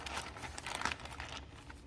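Hands press a plastic zip bag, giving quiet crinkling and rustling in soft irregular bursts, close by and alone.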